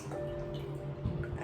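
Water is poured into a glass, a brief, quiet trickle with a faintly ringing, rising tone as the glass fills.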